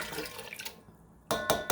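Asparagus pieces are poured into broth in a pot for a creamy asparagus and cauliflower soup, making short wet splashes and drips, close and fairly loud, with a brief quiet gap between bursts.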